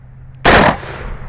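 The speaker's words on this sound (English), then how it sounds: "That 2-round burst is crazy, bro." A rifle fitted with a Sightmark Mini Shot M-Spec M1 red dot fires a 2-round burst, a single loud, close blast whose two shots merge, followed by a short echoing tail.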